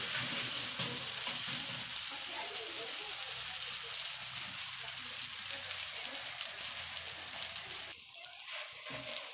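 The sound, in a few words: msemen flatbread frying in a pan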